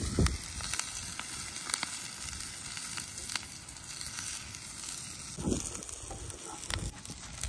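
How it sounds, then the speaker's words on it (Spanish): Steady crackling sizzle of vegetables frying in a hot pan for a sauce, continuous with a few louder pops, close and fairly quiet. "Una vez bien caliente, echamos nuestra verdura para preparar nuestra salsita o chicuta."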